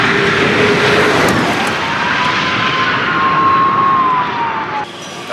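An electric race car climbs the Pikes Peak hill climb course with a steady rising electric whine over a broad rushing roar of wind and tyres. It stays loud and sustained throughout, then drops off slightly at the very end. No one speaks.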